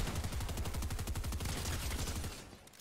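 Rapid bursts of suppressed sniper rifle fire from a battle royale video game, a dense volley of shots that fades out near the end of the clip.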